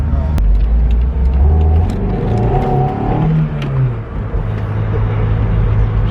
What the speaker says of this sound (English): Spins the tyres. Even with the low power and the big meat on the back.